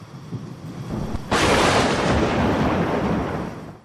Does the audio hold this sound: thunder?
yes